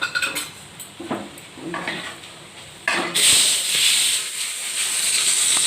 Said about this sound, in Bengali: এই চিকেনের সঙ্গে ডিমটা দিয়ে দিয়েছি। এরপর ভালো করে কষিয়ে নিচ্ছি।